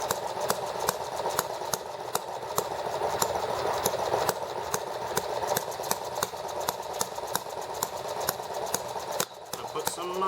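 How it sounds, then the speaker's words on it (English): An ET8 stationary engine runs steadily after repairs, firing every rotation with a rapid, even mechanical beat and clattering rhythm held close and loud throughout. "this engine is definitely going to run hotter than the hit and miss engines, since it fires every rotation"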